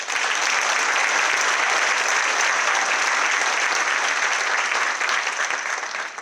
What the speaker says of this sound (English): can we all give a round of applause to the mayor with this amazing